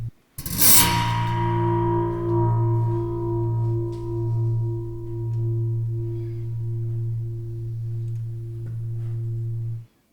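A scraping attack on an IKEA lamp's metal spring sets off a deep, humming metallic drone that rings steadily for nearly ten seconds before cutting off.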